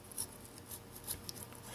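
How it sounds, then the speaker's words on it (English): A flat screwdriver scrapes and cleans the frame of a Samsung Galaxy J5 phone during a screen replacement, giving faint, close, scratchy strokes in quick irregular succession with no talking. "Now what you want to do is clean the frame very good. I will use a flat screwdriver."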